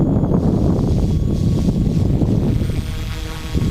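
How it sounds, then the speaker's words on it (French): A steady roaring headwind over snowy ground buffets the microphone throughout, a dense low rumble that eases slightly near the end, with no voices. "Là, j'ai un vent de face."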